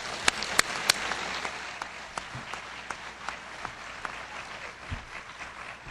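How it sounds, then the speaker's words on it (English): Applause from the audience at a discussion panel, broad steady clapping across the full stretch with a few sharp, louder claps near the start, moderately distant and without talk over it. "let's give them a round of applause"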